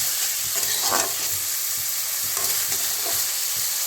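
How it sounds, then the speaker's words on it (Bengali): Spice paste sizzles steadily in hot oil while being stirred for a katla fish curry, with a continuous bright frying hiss and soft scraping strokes of the spoon throughout, close and fairly loud. "দেখো সুন্দর কষানো হচ্ছে।"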